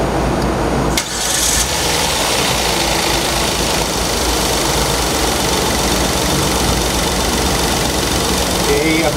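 Engine of a 2017 Kia Sorento catches near the start and then settles into a steady, loud idle, with someone talking over it.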